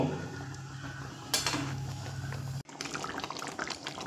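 Rinse water from a mixer jar poured into a curry of ridge gourd and poppy seed paste, a soft watery trickle and splash that sharpens briefly midway, then cuts off into quieter dripping.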